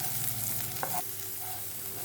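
Steady hiss of food sautéing in a pan, with a brief clink of a utensil partway through; close, continuous, no voices.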